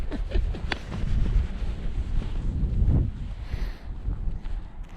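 Steady gusting wind buffets tents at a wild camp on Dartmoor, a continuous low roar and flapping rumble with no talk, easing slightly toward the end.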